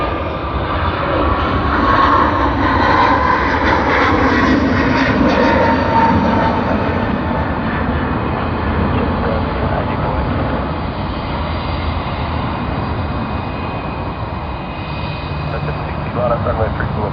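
An airliner departs Sydney Airport with a steady, loud broadband jet roar that holds for the whole stretch, and faint talk sits under it.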